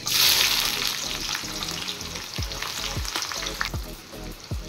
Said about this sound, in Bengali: তেল গরম হয়ে গেছে। এবার আমি দিয়ে দেবো কুচিয়ে রাখা পেঁয়াজ।